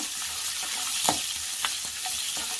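Sliced onions fry and get stirred in a pan for poha upma, giving a steady close sizzle with a few brief scraping stirs and no voices.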